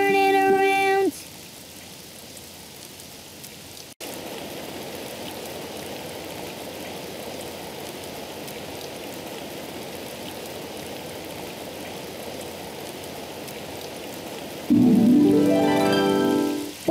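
Steady rain falls outdoors in a children's cartoon, a constant hiss that runs through the middle of the clip, framed by brief musical tones at the start and end.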